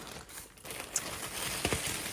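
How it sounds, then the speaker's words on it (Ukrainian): A plastic bread bag crinkles and rustles continuously at close range while groceries are unpacked at home, a dense, fairly loud crackling with a few sharper crunches. "Це, мабуть, хлібний пакет."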